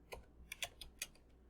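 About five quick, light keystrokes on a computer keyboard while code is typed, close but quiet, in an irregular burst with no talking.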